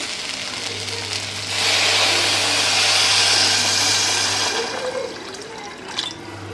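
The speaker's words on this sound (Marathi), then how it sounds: "हे तांदळाचं दुप्पट पाणी आहे ते पुन्हा गळून घ्यायचं" Water, about twice the volume of the rice, is poured into a pan of toasted jeera rice, making a loud steady splashing rush that swells for about three seconds and then fades.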